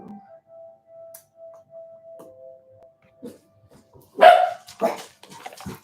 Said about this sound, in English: Sorry, I have a little dog in here.